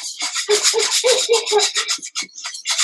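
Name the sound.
whisking lasagne sauce in a big pan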